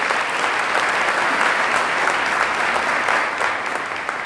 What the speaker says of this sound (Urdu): ایک دفعہ بھرپور تالیاں اس بات کے لیے